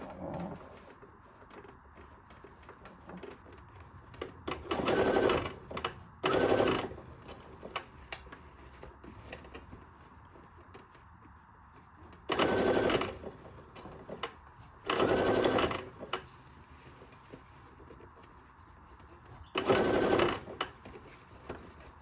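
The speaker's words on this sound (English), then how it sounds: "So I will sew it this way just to show you how that will look." A sewing machine stitches binding onto a cozy camera pouch in short separate bursts, each a rapid mechanical whirring run lasting a second or two, with quiet gaps and faint handling noise in between.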